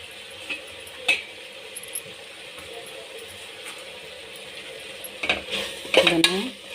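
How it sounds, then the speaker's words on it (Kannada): Grated coconut stirred and fried in a pan with a spoon, soft scraping and occasional sharp clinks of utensil against metal, sparse at first and busier near the end, with no talking. "ಇದಕ್ಕೆ ಕಾಯಿ ತುರಿಯನ್ನು ಹಾಕೋಣ."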